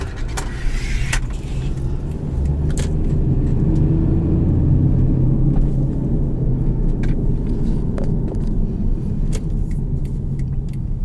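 A 2008 Subaru Outback with an automatic transmission and 198,000 miles on it, heard from inside while driving: steady road and engine rumble with scattered knocks and thumps from the worn suspension over bumps.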